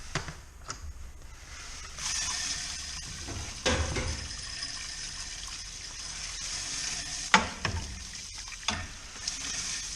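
Malted grain is stirred into hot water to mash in for a kveik beer brew, giving a steady sizzling, watery rush with scrapes, knocks and splashes through it and no talking.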